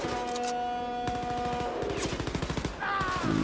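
Rapid automatic gunfire rattles in Wolfenstein: Youngblood, a dense burst of shots over game music and effects.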